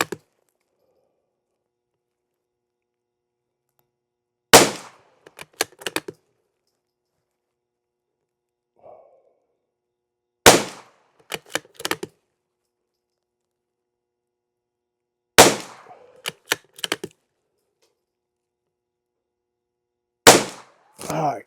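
A rifle fires CCI SV ammunition lubed with Chapstick. Four sharp, loud reports are spaced about five seconds apart, each followed by a brief clatter of small mechanical clicks, with silence in between.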